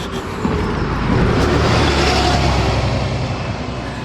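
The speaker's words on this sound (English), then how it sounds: "Try not to get knocked down by the Keswick bus" The Keswick bus and other traffic passing on the B5287 near a bridge, a steady nearby road rumble that swells as vehicles go by, with no talk.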